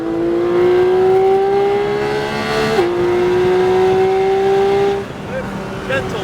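Porsche 718 GT4 engine accelerating on a race track, a loud, steady rising whine with one gear change midway, heard from inside the car.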